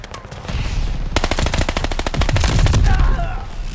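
Video game gunfire, loud rapid automatic bursts with a fast even rhythm, preceded by a brief quieter lull.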